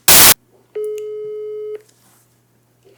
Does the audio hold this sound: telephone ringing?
yes